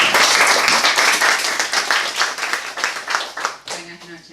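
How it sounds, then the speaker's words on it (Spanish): At a book presentation for a poetry collection's third edition, an audience gives a firm round of clapping, dense and rhythmic, fading out after a few seconds as a voice begins speaking. "para que pido un fuerte aplauso."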